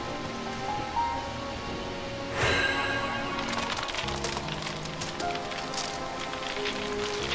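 Rain starting in Stranger of Paradise Final Fantasy Origin, a steady patter that swells after a sudden burst into dense crackling drops over a game music bed, no talk.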